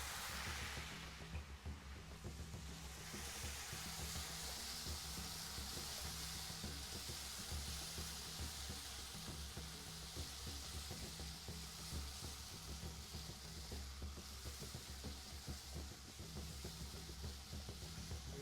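Teriyaki sauce sizzling in a hot pan, a continuous soft frying hiss with faint bubbling crackle, steady and unbroken throughout.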